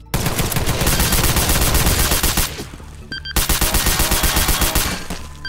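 Rapid bursts of automatic gunfire in the video game Garry's Mod DarkRP, loud and close, firing continuously, cutting off briefly and then resuming in a second sustained volley.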